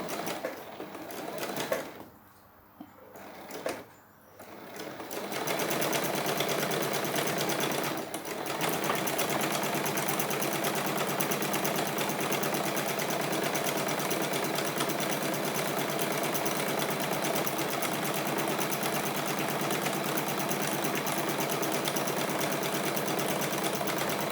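Sewing machine stitching a shirt collar, starting with a few brief runs and pauses, then running in one long, steady, fast mechanical whir close by.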